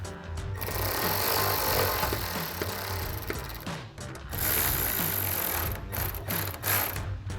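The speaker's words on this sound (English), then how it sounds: "And then using our 10mm socket, we can tighten this down." A hand ratchet with a 10mm socket tightens taillight bolts on a 2016-2023 Toyota Tacoma, giving rapid, close, continuous pawl clicking in bursts with brief pauses.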